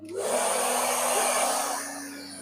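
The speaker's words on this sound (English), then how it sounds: "I don't have like a air duster, so I use my blow dryer." A blow dryer blasts hair clippings off a barber's station after a mid-fade cut, a loud, steady rushing whoosh up close that eases slightly toward the end.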